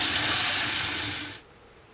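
Running water rinses hydro-dipped AR-15 parts, a loud steady hissing gush from a tap that cuts off abruptly after about a second and a half, leaving near silence.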